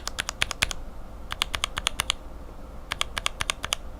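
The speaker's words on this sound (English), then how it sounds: "kind of a loud click on top out with the Outemu no slot top compared to the cherry." Lubed mechanical keyboard switches with Cherry bottom housings and assorted top housings, including Outemu no-slot tops, typed in three quick bursts of sharp clacking keystrokes with clicky top-out, close and fairly crisp over a quiet background.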